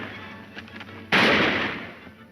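A single sharp gunshot rings out in a radio western serial, breaking a quiet stretch and trailing off in a decaying echo over about a second.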